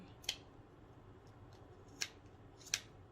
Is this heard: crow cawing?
no